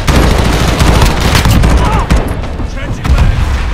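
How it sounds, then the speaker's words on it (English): Gunfire in the Call of Duty Modern Warfare beta, with loud, dense bursts of automatic shots and booming impacts packed close together throughout, plus a brief lull before more firing. "You actually feel like you're firing a gun instead of a toy."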